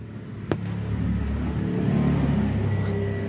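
A Toyota Estima engine with about 152,000 km runs roughly, a steady low rumbling idle with a mechanical knock from a suspected balancer shaft fault near the oil pan, close and alone after a sharp click.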